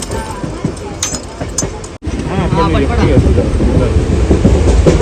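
The steady rumble and rattle of a moving passenger train fills a carriage, loud and continuous, while people talk nearby.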